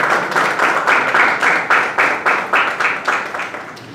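Audience at the launch of the fourth edition of a multilingual international mime event claps in a steady rhythm, with loud, regular bursts of hand clapping repeating evenly throughout.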